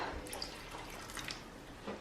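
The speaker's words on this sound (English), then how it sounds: "Now I'm going to add a little bit of boiled water to loosen it up." Boiled water poured from a kettle into a pan of tomato sauce with minced beef, a faint, soft trickle and splash heard quietly for about two seconds.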